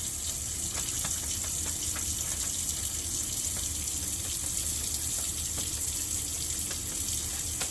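Tap water runs steadily from a sink faucet into the basin during handwashing, a constant close, loud gushing stream with small splashy ticks and no voices.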